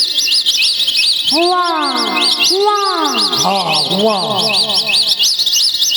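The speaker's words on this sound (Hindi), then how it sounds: "वो देखो सामने पेड़ पे चिड़िया है" Birds in a tree give repeated rising and falling chirps, bright and fairly close, in quick bursts over a constant high-pitched chirping background, with someone briefly speaking.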